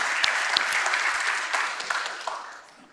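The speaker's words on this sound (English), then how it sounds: "Give them a round of applause." An audience applauds at a ministry leadership conference main session, a dense steady clapping that holds strong for a few seconds and then thins and fades toward the end.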